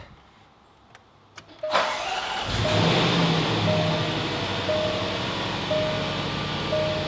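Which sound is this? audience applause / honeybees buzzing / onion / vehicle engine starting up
vehicle engine starting up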